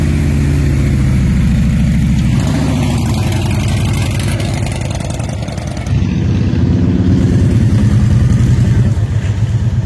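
Motorcycle engines idle and rev on an old-town street in Alexandria, Egypt, among big bikes such as Kawasaki, Suzuki, Honda and Harley-Davidson, a loud steady low rumble with swelling throttle surges throughout.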